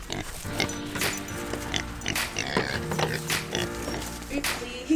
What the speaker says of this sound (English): Pig, pig, pig.